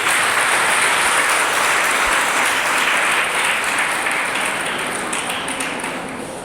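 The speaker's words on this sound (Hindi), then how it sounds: "एक बार आप ताली बजाकर उन्हें बधाई दीजिए" Dense, steady applause from an audience filling an auditorium at a seminar on Gandhi, sanitation and social change, holding strong throughout and tapering slightly at the end with no voices over it.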